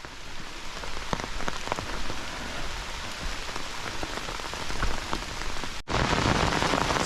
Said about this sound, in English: Oh yeah, it's gonna rain hard.